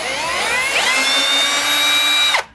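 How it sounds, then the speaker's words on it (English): A power drill running in reverse to back a screw out of a subfloor whines at a steady high pitch for over two seconds, loud and close, then cuts off abruptly as the motor stops. "And then you just reverse the drill"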